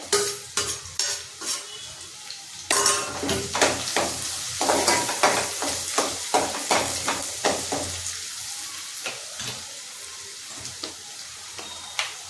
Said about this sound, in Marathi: आता आपण यात लसूण टाकायचं आहे.